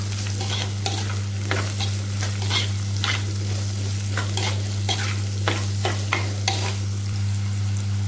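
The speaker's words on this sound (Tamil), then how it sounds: "வெங்காயத்தை நல்லா அந்த எண்ணெயில் கிண்டி விட்டுட்டு" Onions with curry leaves are stirred and fried in hot oil in a pan. A steady sizzle runs under repeated scraping strokes of a spoon, over a constant low background hum.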